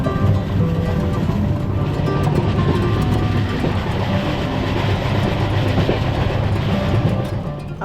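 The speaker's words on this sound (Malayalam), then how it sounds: "അങ്ങനെ ട്രെയിൻ ഏകദേശം കന്യാകുമാരി എത്താറായി" A train rolls on toward Kanyakumari, its loud continuous rumble and rattling wheels heard steadily from inside the coach near the open door.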